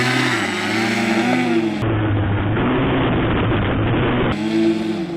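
A radio-controlled ski craft motor runs at under a quarter throttle, a loud close high-pitched buzzing whine that shifts pitch, drops briefly into a harsher rougher roar and then returns, with no talking.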